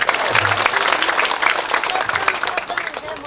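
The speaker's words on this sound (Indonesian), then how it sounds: "Tepuk tangan." An audience at an Indonesian meeting on organizing elections breaks into loud, sustained applause, with crowd murmur mixed in throughout.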